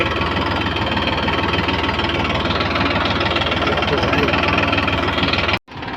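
Tractor engine running steadily in a farm field where fertilizer is being spread on wheat and mustard, a loud, even rumble close by that cuts out abruptly near the end.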